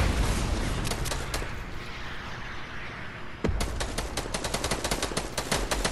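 Rapid bursts of gunfire from a battle royale video game rattle loud and close, a dense stream of shots that pauses briefly before a sharp crack restarts a second volley.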